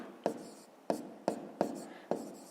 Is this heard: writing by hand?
yes